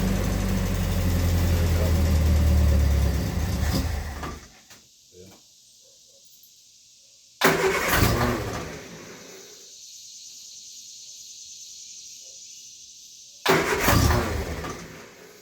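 A 1970 Triumph Spitfire cranks loudly on choke, turning over for about four seconds, then two more short cranking bursts follow after pauses, close to the microphone with a low rumble.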